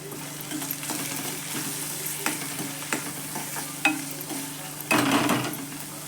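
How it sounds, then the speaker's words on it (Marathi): Onions frying in a pan for a Maharashtrian gathi shev curry, with steady close sizzling and intermittent scrapes and clinks of a spoon stirring, louder scraping near the end, no talk. "कांदा थोडासा चांगला लाल होऊ देते."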